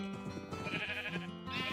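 Sheep bleat repeatedly in the Minecraft video game, several overlapping nasal cries close by in quick succession, with no talking.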